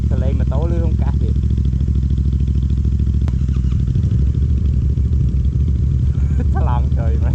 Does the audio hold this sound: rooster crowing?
no